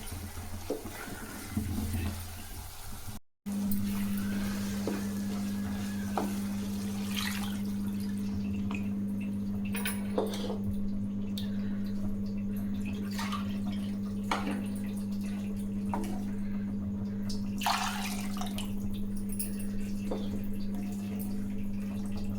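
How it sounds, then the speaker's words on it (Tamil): Water pours into a pan and splashes steadily for a long stretch, about two cups for egg vermicelli, with scattered drips and clinks over a constant low hum. "இதில் ரெண்டு கப்பு தண்ணி ஊற்றலாம்"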